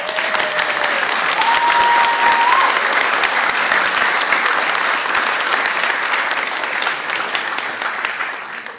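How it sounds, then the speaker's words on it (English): An audience at a city council meeting applauding students, a loud, full burst of many hands clapping that swells early, holds steady, then tapers gently toward the end. "this is the time for applause for these kids"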